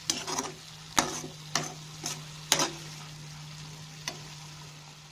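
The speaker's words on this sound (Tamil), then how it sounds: "தக்காளி ஆட் பண்ணி ஒரு 3 நிமிஷம் அப்படியே கொதிக்க விட்டுருங்க. அப்படியே வதங்கட்டும்" Tomatoes sautéing in a pan for parotta salna, a soft continuous sizzle with a handful of sharp spoon taps and scrapes against the pan, close but fairly quiet, with no voices.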